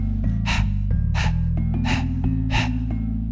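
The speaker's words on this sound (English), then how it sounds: "It's a powerful belly exhale and a passive inhale, like a dog panting." Four sharp, forceful breath-of-fire belly exhales through the nose in a quick regular rhythm, close up, over a low steady hum.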